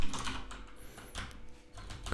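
Quick, light keystrokes on a computer keyboard, a short uneven patter of soft clicks heard close and quiet.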